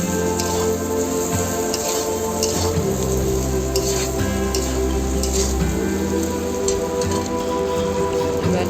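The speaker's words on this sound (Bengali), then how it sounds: "এবার দিয়ে দেবো কুচনো টমেটো এবার ততক্ষণ কষাতে থাকবো যতক্ষণ না টমেটোটা গলে যায়" Chopped tomatoes sautéing in a pan for khichuri, a dense, even sizzle throughout with low hum and steady crackle, no talk.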